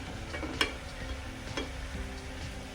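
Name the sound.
stirring tomato and spice powders in a cooking pan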